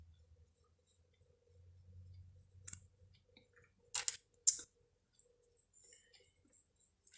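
Scissors fussy cutting a sentiment from a greeting card: a few faint, quiet snips spaced apart, close by and otherwise near-silent.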